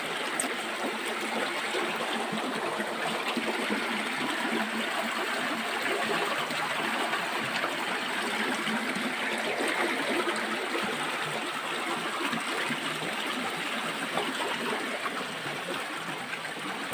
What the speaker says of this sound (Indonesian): ini air mengalir.